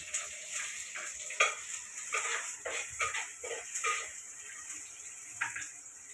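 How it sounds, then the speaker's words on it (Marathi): Chopped onion frying in hot oil with a steady hiss and crackle, broken by intermittent stirring scrapes, close up and moderately loud with no talking. "एक कांदा चिरलेला आहे फोडणीला, तर टाकून घेते"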